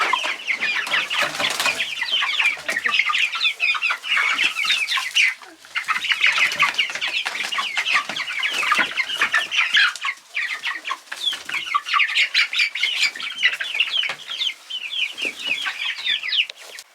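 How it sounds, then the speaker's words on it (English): Chickens cluck and chatter almost nonstop in an outdoor run, a dense busy flock sound that stays close and fairly loud with only a brief lull. "Silly chickens."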